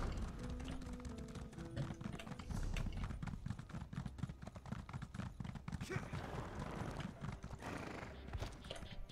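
Horse hooves clip-clopping at a steady gallop in the video game Elder Scrolls Online, a continuous rhythmic patter with a whinny near the start, under faint game ambience.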